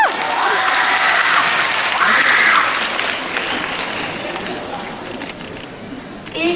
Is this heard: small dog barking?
no